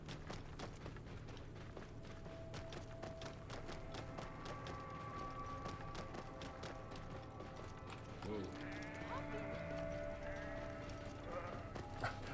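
Goats bleating in the Assassin's Creed Origins video game, a few short nasal cries near the end over a bed of game ambience, clicking and mechanical ticks, with someone talking throughout.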